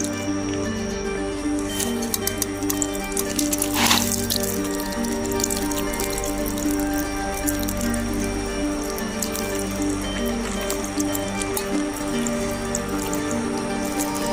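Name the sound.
watering coriander seeds sown in soil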